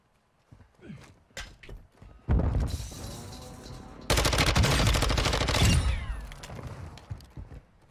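MP7 submachine gun fire in Warzone 2: a few scattered shots, then two long, dense, loud automatic bursts with sharp cracking impacts, fading into sparse pops at the end.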